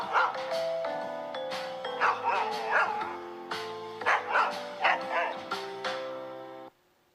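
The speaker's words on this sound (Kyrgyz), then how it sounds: "Ит бул үй жанвары." A dog barks and yips repeatedly in short, bright bursts over a steady musical backing, with the sound ending abruptly near the close.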